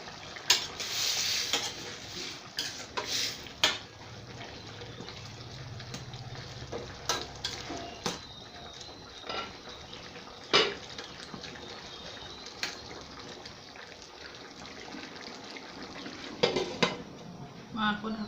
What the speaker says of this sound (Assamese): এয়া চব উতলিছে।